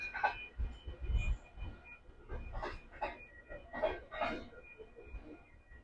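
A train passes near a suburban bus stop in Canada. A low, steady rumble carries faint rhythmic clatter throughout, heard from a moderate distance.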